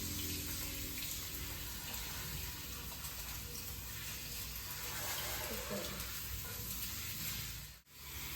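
Running water rinses a salon hair-spa repair treatment out of hair, a steady close rushing hiss of flowing water that holds constant and cuts off abruptly near the end.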